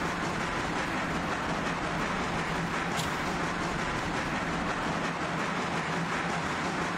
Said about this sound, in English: So passing train's gone.